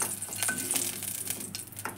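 Dried red chillies frying in oil in a pan, a steady close sizzle with crackles and scattered pops, stirring scrapes over the top, no voices.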